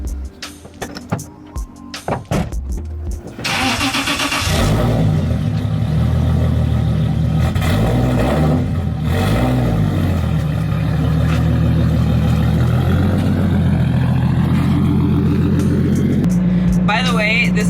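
A lowered car with a very low body kit starts and revs in a backyard, its engine droning and rising over a long stretch after a few clattering knocks, with someone talking near the start.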